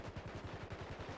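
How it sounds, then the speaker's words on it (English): Automatic gunfire in a roleplay video game: a short, fast, even rattle of closely spaced shots, loud and near, with no one speaking. "Shots fired."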